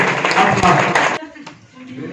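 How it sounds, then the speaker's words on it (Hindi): Audience applause at an Ambedkar Jayanti celebration in Lohara village where students are being honoured: a dense burst of clapping for about a second, then it drops away under voices. "तालियां बज दीजिए बहुत जोर से।"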